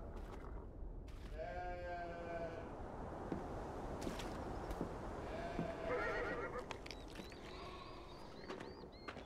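Sheep bleat in a rural Navajo ranch scene of the video game Beyond: Two Souls, several wavering calls rising over a quiet outdoor bed, with horse whinnies mixed in.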